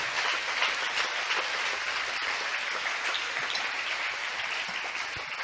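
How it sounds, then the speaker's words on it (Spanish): A church congregation claps together in a dense, steady wash of applause that holds evenly for several seconds, with no voice above it. "Regálele un aplauso al Señor en esta hora."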